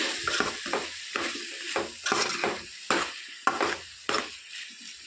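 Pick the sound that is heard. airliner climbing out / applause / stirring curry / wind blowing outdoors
stirring curry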